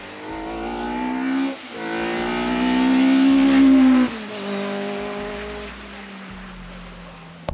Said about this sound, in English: This car sounds really good, doesn't it?